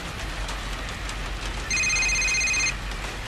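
A telephone rings once with a steady electronic tone lasting about a second, over constant background noise from a 2006 Adult Swim cartoon episode.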